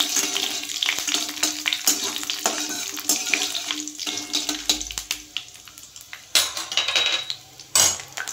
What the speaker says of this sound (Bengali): এটা একটু নেড়ে নিচ্ছি।